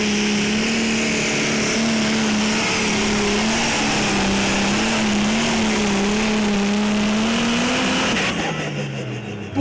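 Valtra pulling tractor in the Pro Stock 3.5-tonne class at a tractor pulling contest, its engine roaring loud and sustained with a droning pitch that wavers and climbs, then drops away near the end.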